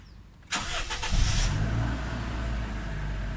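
A Toyota Innova with a blacked-out panel gauge fault starts up close by, a sudden crank that settles into a steady, loud engine idle lasting a few seconds with no voices.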